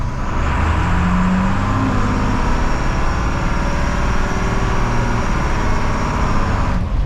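A 1980s Dennis DS classic fire engine drives along with a steady, loud engine drone and road rumble throughout, the note shifting slightly as it moves, with no talk.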